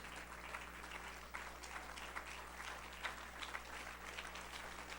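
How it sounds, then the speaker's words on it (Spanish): A church congregation applauding during a Spanish-language Christmas sermon, a steady wash of clapping that holds for the whole stretch, with a low constant hum underneath. "Les voy a invitar a que se pongan en pie, aplaudiéndole y glorificando el nombre de Jesucristo"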